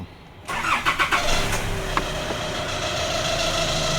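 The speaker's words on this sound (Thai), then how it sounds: "เดี๋ยวไปสตาร์ทรถดีกว่า" A Nissan Navara pickup engine cranks with a few quick rhythmic turns, catches, and settles into a steady close idle hum after a brief sharp click.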